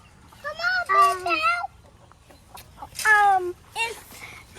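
Chickens in a backyard coop cluck and squawk in bursts of rising, warbling calls, with a voice and other talk mixed in around them.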